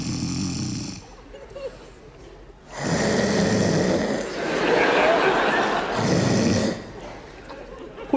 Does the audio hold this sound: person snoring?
yes